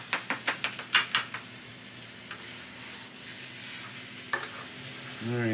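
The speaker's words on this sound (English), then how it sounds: "Let's see how far we are in the process of browning meats." Meat browns in a hot pan with a steady soft sizzle, opened by a quick run of rhythmic scraping stirs, then a couple of isolated utensil clicks, with no voices.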